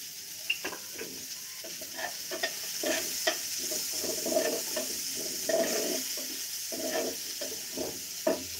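Chopped onions go into a hot pan for a fish curry and sizzle steadily, with scattered clinks and scrapes of stirring over a continuous frying hiss.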